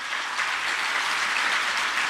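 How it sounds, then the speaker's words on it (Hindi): A large crowd at a political event in Delhi applauds loudly and steadily, with dense clapping that holds at an even level throughout and no speech over it. "जोरदार तालियों से"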